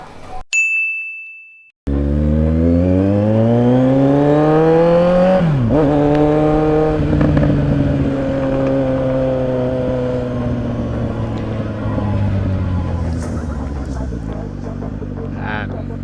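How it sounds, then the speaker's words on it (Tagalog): A brief chime, then a Kawasaki Z900 motorcycle with a new exhaust pipe starts and revs loudly up close, with a deep droning exhaust note that rises sharply once and settles into a steady rumble. "Maingay na yung motor natin mga katots."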